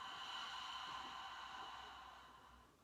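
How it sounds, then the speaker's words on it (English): A single long breath pushed out through the mouth during yoga breathing, soft and airy, steady at first and then tapering away over a few seconds, close and quiet. "exhale through your mouth"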